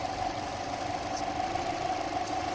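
A 2005 Subaru Forester XT engine idling, a steady low hum with a constant tonal drone and faint vibration, recorded close with no other sounds.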